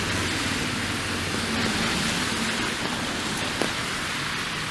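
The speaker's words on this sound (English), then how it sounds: "Now we kind of have a light drizzling freezing rain." Light drizzling freezing rain falls on a slushy city street in winter, a steady soft hiss with faint distant traffic and no voices.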